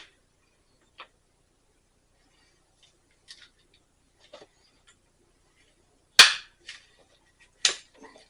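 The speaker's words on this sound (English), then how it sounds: "this resizes. It's a little tough" A reloading press resizes 45 ACP brass in a carbide die, giving sparse, sharp clicks and short metallic clunks spaced irregularly over near silence, with two louder snaps near the end.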